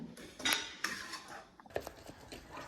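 A utensil scrapes and clinks against a kadhai as a khoa peda mixture is stirred, with irregular metallic taps and scrapes close by and no talking.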